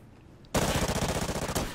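Rapid automatic gunfire from hip-firing in Call of Duty Ghosts on Xbox, a loud burst of evenly spaced shots that starts suddenly after a quiet moment and runs about a second.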